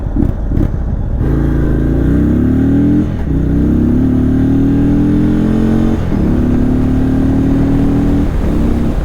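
Indian Chief Bobber Dark Horse motorcycle in sport mode, its engine droning loud and close, rising in pitch through several revs with brief dips between gear changes, continuous for the whole stretch.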